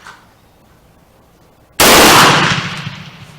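A single loud, close shot from a Springfield cadet trapdoor rifle fitted with a replacement barrel cracks sharply after a quiet stretch, then the boom rolls off in a long decaying echo.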